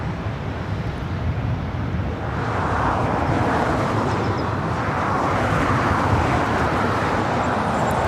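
A Delta Air Lines Boeing 737-900ER at LAX makes a broad, loud engine roar that swells slightly and holds steady, with wind buffeting the microphone.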